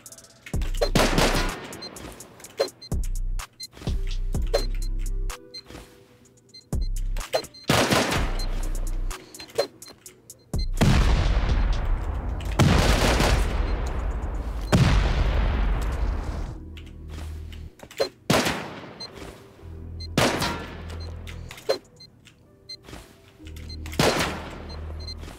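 Rapid bursts of gunfire and rocket blasts during a base raid in the video game Rust, loud and repeated, with sharp cracks and heavy booms arriving in irregular clusters across the clip.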